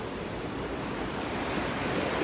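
A mountain river runs beside a Hindu temple, its water rushing in a steady, unbroken hiss that stays even and fairly close throughout, with no voices.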